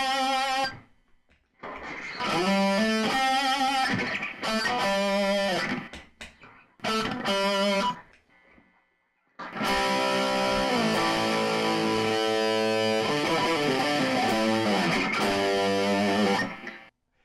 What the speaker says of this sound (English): For a little bit more distortion, we'll add a distortion pedal.